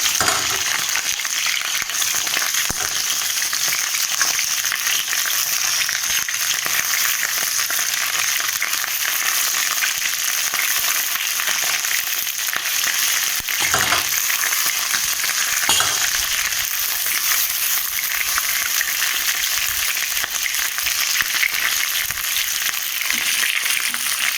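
Crab pieces, legs included, fry in hot oil for a spicy Bengali crab curry. A loud, dense sizzle hisses without a break from start to finish, with no talking.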